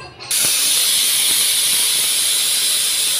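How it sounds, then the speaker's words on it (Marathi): A pressure cooker cooking soup lets out a loud, sustained whistle of escaping steam, a close, continuous hiss that starts abruptly and holds steady throughout. "आता कुकर ते 4 ते 5 शिट्ट्या होणार आहेत कुकरच्या।"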